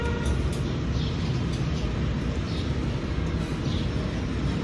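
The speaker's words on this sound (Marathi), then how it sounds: "म्हणजे आता मी ट्रेननीच चाललो आहोत." A passenger train in motion on a Konkan route toward Khed, Ratnagiri, gives a steady, loud low rumble with rattling wagon noise that runs unbroken and fills the whole stretch.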